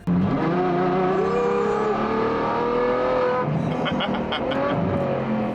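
Ferrari FF with a 6.3-litre naturally aspirated V12 accelerates hard, its loud, rising engine note climbing through the gears with a brief dip at a shift, heard from close by with a voice briefly over it.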